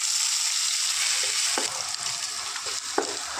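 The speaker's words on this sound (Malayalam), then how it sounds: "ഒരു പാനിലേക്ക് ആവശ്യമായ ഓയിൽ ഒഴിച്ചു കൊടുക്കാം. കുറച്ച് കറിവേപ്പില ഇടാമേ." Curry leaves fry in hot oil in a pan, giving a steady, close, bright sizzle throughout, with a few soft stirring clicks and no voices.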